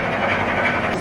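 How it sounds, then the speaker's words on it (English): A toy train runs steadily around a Christmas Santa's cave display, a continuous rumbling clatter with no pauses, heard close and fairly loud. "It's a train, look."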